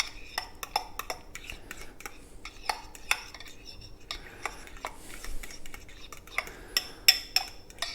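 Spoon scraping and clinking against a bowl while pumpkin puree is stirred into keto pumpkin bread chaffle batter, a steady run of light taps and scrapes close by with no talk.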